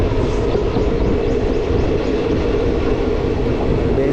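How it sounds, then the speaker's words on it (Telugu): A Kacheguda to Medak passenger train hauled by a green WAG-9 electric locomotive rolls on steadily, a loud, even rumble heard up close from inside without voices. "మన WAG-9 లోకోమోటివ్"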